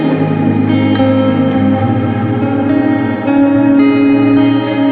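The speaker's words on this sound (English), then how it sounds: "Hall mode gets quite cavernous." A guitar sustains chords through a hall-mode reverb pedal, giving a loud, cavernous wash of long, ringing tails that blur the notes together, with no one speaking.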